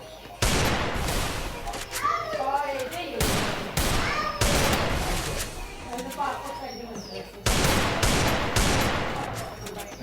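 Bursts of gunfire in the mobile shooter game Free Fire, loud repeated volleys in several separate bursts, with a voice talking between and over them.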